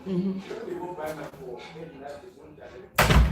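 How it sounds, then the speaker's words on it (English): An indoor door swings shut with a sudden loud slam at the very end, after a stretch of voices talking in the room. "He can open the door and close it."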